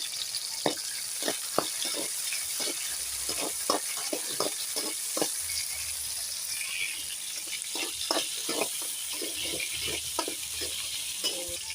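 Tomatoes sizzle in a hot pan under steady, close frying noise, with repeated sharp stirring clatters spaced through it.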